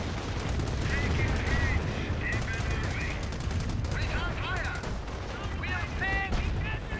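A rocket barrage in the real-time strategy game Company of Heroes, a dense, continuous rumble of rapid impacts and crackling fire, loud throughout, with whistling rocket streaks cutting through.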